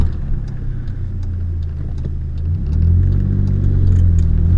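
A Saab 900 with a freshly rebuilt engine drones steadily while driving, a close, loud mid-range hum that swells with a deeper rumble partway through as the car pulls harder.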